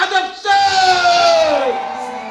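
A crowd at a network marketing seminar in India cheers as a speaker is welcomed on stage, with one loud falling whoop or whistle rising above general crowd noise.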